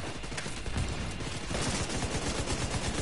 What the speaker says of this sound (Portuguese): minha torreta tá atirando nela